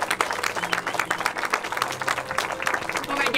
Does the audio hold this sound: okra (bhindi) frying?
no